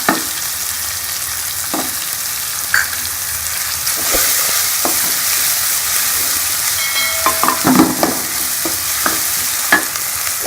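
Steady sizzling of green chillies, garlic-ginger paste and spices frying in a pan for achari arvi, with occasional stirring scrapes and clinks, close up and no talking.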